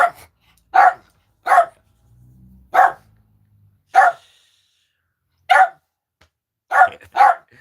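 A poodle barks sharply in short bursts, about eight yaps with uneven pauses between them, fairly close, in an otherwise quiet room.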